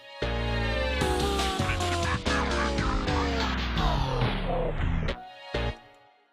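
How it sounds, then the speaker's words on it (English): A tape stop effect in a progressive artcore track, full music gradually dropping in pitch and slowing as it winds down to a halt, followed by a couple of brief stray hits near the end. "It's a sound a tape deck makes when you pull the power."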